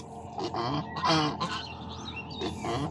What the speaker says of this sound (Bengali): আমাদের হাঁস এই যে এখানে রাখা, এটা হচ্ছে আপনার যে রাজহাঁস